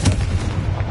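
In the Hogwarts Legacy video game, a Confringo blasting spell lands as a single loud, booming explosion that quickly fades into a rumbling tail within one second.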